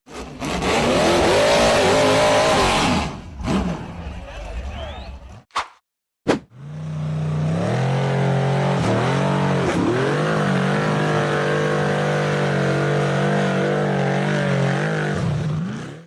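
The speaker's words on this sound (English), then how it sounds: "red buggy tried to accelerate up a narrow, steep dirt trail in the forest" A red off-road buggy engine revving hard as it climbs a narrow, steep forest dirt trail, loud and close, with sustained high revs broken by a brief cutout before it roars again steadily.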